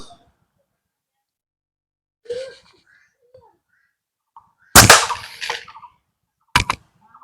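Slingshot shots fired outdoors at a target: two sharp, loud snapping impacts about two seconds apart, each with a short rattling tail, after a quieter brief knock and faint background sounds.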